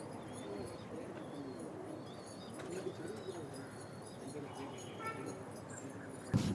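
Kalangaa pigeons in a loft in Coimbatore coo softly amid a busy bird-filled background, with faint chirps and occasional wing flaps, and someone talks over them throughout.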